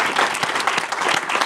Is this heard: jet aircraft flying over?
no